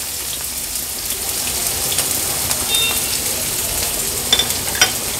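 Finely chopped onion going into hot oil with cumin seeds for a spicy paneer bhurji, giving a steady, close sizzle and crackle with occasional sharper pops and stirring scrapes, no voices.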